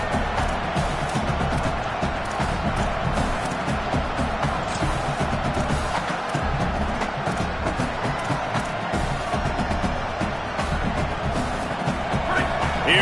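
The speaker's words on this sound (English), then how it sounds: "this crowd is turning it up a notch" A football stadium crowd at a Tennessee versus Texas A&M game roars continuously and loudly, with cheering and a dense wall of noise throughout, and a few voices talking under it.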